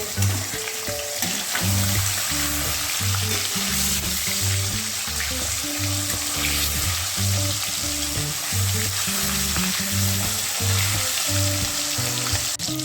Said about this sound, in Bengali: এবার একে একে মাছগুলো ভেজে নিচ্ছি মাছগুলোকে ভেজে